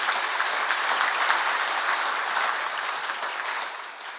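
An audience at an industry safety awards ceremony gives the Board of Directors a steady round of applause, many hands clapping in a dense even roar that fades slightly at the end.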